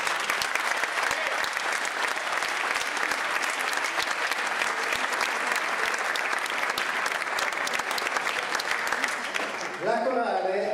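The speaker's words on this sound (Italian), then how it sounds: "ad accogliere con un grande applauso la corale" An audience at a music festival applauds to welcome the Giaveno in Canto choir, steady loud clapping from a large crowd that fades at the end as a voice begins speaking.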